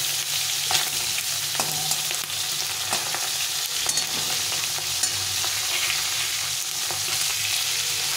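Fish frying in oil in a pan, a steady close crackling sizzle with a few utensil scrapes and ticks throughout, no voices.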